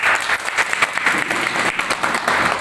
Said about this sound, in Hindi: आप लोग से आग्रह करता हूं कि इनके लिए आप लोग जोरदार ताली बजाएं